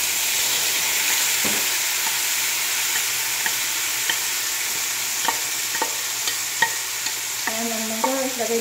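Mung beans stirred and sizzling in a frying pan while sautéing, a steady frying hiss with scraping stir strokes repeating at a few points, close and loud with no talking.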